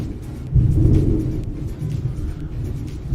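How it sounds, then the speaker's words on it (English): Low thunder rolling from a heavy thunderstorm outdoors, a deep rumble that swells and fades, heard muffled from indoors. "Sounds like we have a pretty crazy thunderstorm going on outside."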